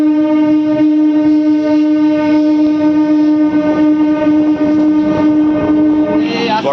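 A passenger train pulls into a small station on the Barddhaman line, its loud, sustained horn sounding close by over the rumble of the rail cars.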